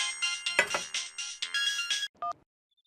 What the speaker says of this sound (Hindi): आपका फोन मिल रहा है।